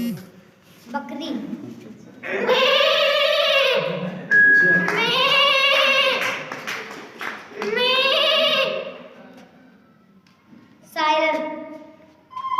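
A child imitates a goat's bleat several times, with wavering, quavering calls in a few separate bursts and short pauses between them.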